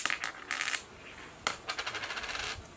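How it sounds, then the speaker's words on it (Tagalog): Coins pour out of an opened piggy bank, clattering and jingling in several bright metallic bursts, ending in a rapid rattling cascade, close and clear with no talking. "binuksan ko yung akansiya na mga barya"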